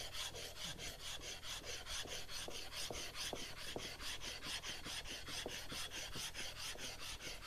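A hand plane sole lapped on 120 grit abrasive, a faint, continuous gritty rubbing with quick back-and-forth strokes repeating at an even pace, alone without speech.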